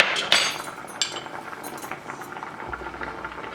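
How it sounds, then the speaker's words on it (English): Vegetables including bottle gourd, potato and peas boil in a pot, giving a steady bubbling hiss broken by close metallic clinks of a utensil against the pot. "It's been 10 minutes since I've been boiling these vegetables"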